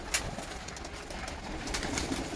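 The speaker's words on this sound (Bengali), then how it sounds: "এগুলো আমার বিডার পায়রা" Breeder pigeons coo softly during feeding, low, faint murmuring calls close by in a quiet loft, with no talking.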